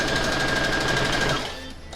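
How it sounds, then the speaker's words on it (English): Sewing machine stitching rows of quilt pieces for a pixelated Halloween quilt, a steady rapid needle chatter running loud and close for about a second and a half before slowing and trailing off. "So we're just going to go through and sew our pieces."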